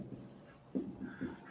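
Handwriting during a class-6 maths lesson on rectangle area, a few soft scratchy pen strokes close by, with two brief firmer marks, quiet and without speech.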